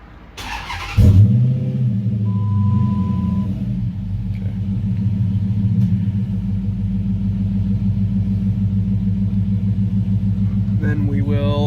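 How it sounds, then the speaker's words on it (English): A car engine is started at home during transmission service. A sharp cranking burst catches, then the engine settles into a steady, close idle rumble that runs on with a faint whine. "we're going to start the car"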